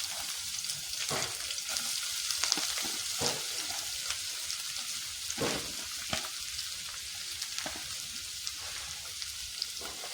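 Chopped onions sizzling in hot oil in a village kitchen, a dense continuous hiss with periodic scraping stirs, close up and steady throughout.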